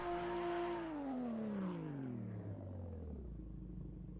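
Sound-swapped BMW touring car engine in a racing sim during a BTCC race at Bikernieki, a loud droning note that slides steadily downward as the car slows into the pits, continuous and alone.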